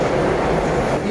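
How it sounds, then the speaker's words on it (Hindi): An old, worn metro train running, a loud continuous rumbling roar with rattling from the carriages that holds steady throughout. "मेट्रो है इसलिए पुरानी हो गई है, खतरनाक किस्म के साउंड आ रहे हैं इसके"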